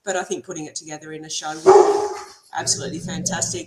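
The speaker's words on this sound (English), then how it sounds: "Excuse my dog, please." Dog barking in a home, a few loud barks breaking in between a person's steady speech, close to the microphone.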